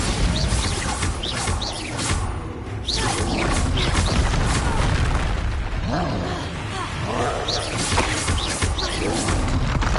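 Spell blasts in Hogwarts Legacy, including the Bombarda blast: a string of loud bursts and crashing booms in quick succession, with combat noise and brief voices between them.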